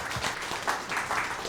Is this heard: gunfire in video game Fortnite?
no